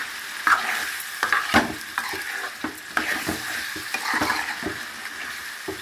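Radish chicken curry with salt, chilli and turmeric is stirred in a hot pan, with repeated scraping spoon strokes and clinks over a soft, steady sizzle.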